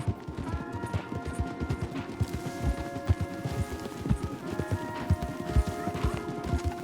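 Horse hooves clip-clop steadily in a brisk walking rhythm in the Red Dead Redemption 2 video game, several horses close by, with no talk.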